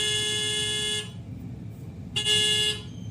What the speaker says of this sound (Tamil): லாரி வந்துருச்சு எல்லாரும் என்னங்க தள்ளி நில்லுங்க.